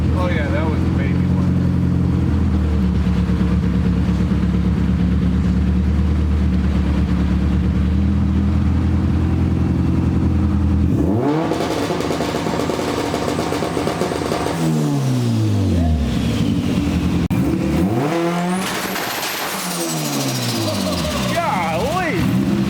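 A Chevrolet Cruze engine runs on a dyno, droning at a steady rumble, then revving hard in repeated surges that sweep up and down in pitch, loud and close, with voices talking briefly over it.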